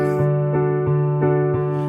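Steady, evenly spaced piano chord strikes repeat about every third of a second, each ringing into the next, played close and clear, in an easy arrangement of a song.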